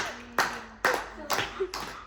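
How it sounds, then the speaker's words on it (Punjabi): Hand claps at a birthday party, four separate sharp claps spaced roughly half a second apart, close and fairly loud, with a faint voice underneath. "ਚਲੋ ਮੈਂ ਇਧਰੋਂ ਆਏ ਹੱਥ ਨਾਲ ਤਾੜੀ ਮਾਰ ਦੂੰ ਜੇ"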